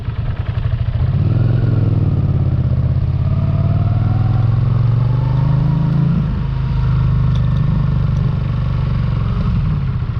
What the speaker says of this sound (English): It's a lot of backfire with this bike